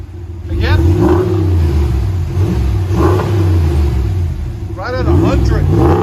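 Deep, throaty V8 exhaust rumble from a RAM 1500 with the 5.7L HEMI and Flowmaster aftermarket muffler, revving up in repeated swells over a steady idle, close by, with people talking over it.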